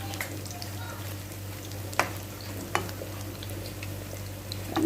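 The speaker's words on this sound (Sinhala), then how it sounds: "කොබස් අරුක් බදින්නේ මේ විදිහට තමයි." Kobas aruk, an Arabic snack, fries in shallow oil with a steady, moderate sizzle, punctuated by a few sharp clicks of utensils and a low background hum.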